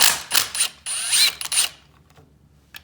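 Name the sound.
ratchet removing Yamaha YFZ450 engine crankcase bolts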